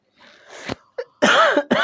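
A close-up bout of coughing from a person with a sore throat: a breathy hack, a short catch, then a harsh, throaty cough and one more quick cough.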